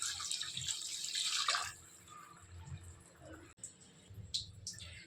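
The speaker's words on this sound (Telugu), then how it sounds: "ఇప్పుడు వాటర్ వేసుకోవాలి." Water is poured into a pan of spicy chicken curry, a brief splashing gush followed by softer trickling and drips. It is faint and close, with light handling noises around it.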